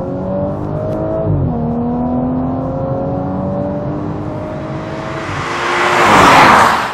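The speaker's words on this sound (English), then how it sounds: "it does reward you with a really nice engine note as well" A sports car engine revs steadily with a rising, sliding pitch, then swells louder with a rushing roar near the end; no talking.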